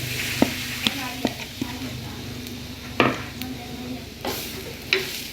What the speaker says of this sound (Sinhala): දැන් මේක හොඳට තෙම්පරාදු කරගමු.